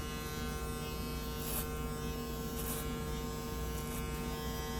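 An electric hair clipper hums steadily and close throughout while cutting hair for a medium skin fade. Faint brushing strokes of the blade against hair pass through the buzz every second or so, with no talking.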